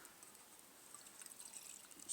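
Water poured into a small Fire Maple camping pot, a faint soft trickle and splash that grows slightly louder toward the end, heard alone without talk.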